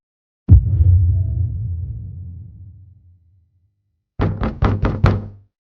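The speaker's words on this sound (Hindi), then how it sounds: "हरीश के दरवाजे पर रात में अचानक दस्तक होने लगती है।" Late-night knocking on a house door: a single heavy thud that rings out and decays, then after a pause a quick burst of about five close, loud raps.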